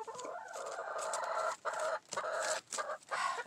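Chickens squawking and clucking close by in a busy, overlapping run of calls broken by brief pauses, with no talk.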